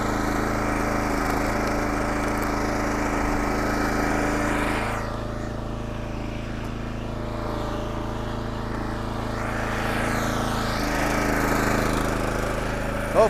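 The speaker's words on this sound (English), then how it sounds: "One more hit and I'll be pushing the splitter." A log splitter's small engine drones steadily while firewood is split in a wood yard, a loud continuous hum with brief dips as the load shifts, and no talking.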